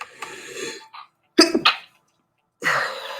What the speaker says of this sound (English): See how it just made me sneeze.